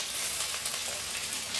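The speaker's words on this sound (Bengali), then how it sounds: "বেগুনটাও ভালো করে ভেজে নেব।" Brinjal (eggplant) pieces frying in oil in a kadai give off a brief, continuous, close sizzle with a bright crackling hiss and no voices.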